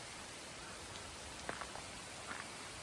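Steady outdoor rain hisses on the South Downs Way in May, with a few sharper drops and taps standing out against the even wash.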